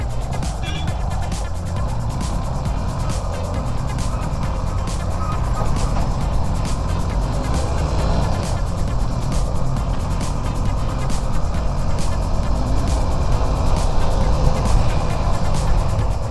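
Heavy vehicle traffic on the landslide-damaged, dusty Shiradi mountain road in Karnataka at night: a steady, dense drone of truck and car engines heard from a moving vehicle, with recurring sharp clicks throughout.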